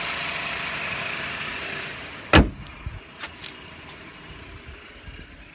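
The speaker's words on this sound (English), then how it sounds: "it sounds like every other 2-liter i4 in the whole world" A 2020 Audi A6 45 TFSI quattro with a 2-liter inline-four idles with a steady low hum, then a sharp click or thump and a few faint knocks as the background quiets down.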